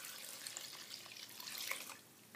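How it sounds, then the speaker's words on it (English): Water poured from a cup into a slow cooker for butterbean soup, a brief, soft splashing stream lasting about two seconds, close but quiet, with no talking. "Now we're going to add 2 more cups of water"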